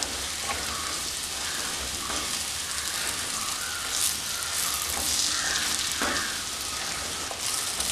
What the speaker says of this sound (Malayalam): നമുക്ക് മസാല ചെമ്മീനിൽ പിടിച്ച് കിട്ടുന്നത് വരെ ഇതൊന്ന് റോസ്റ്റാക്കി എടുക്കാൻ മതി